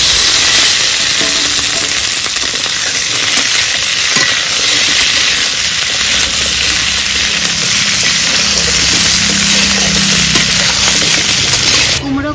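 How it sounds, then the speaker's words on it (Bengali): Pumpkin and potato sauté in a pan, giving a loud, continuous close-up sizzle and hiss with a few faint clinks of stirring, steady until it cuts off just before the end. "কুমড়োটা দিয়ে ভালো করে কষিয়ে নেব।"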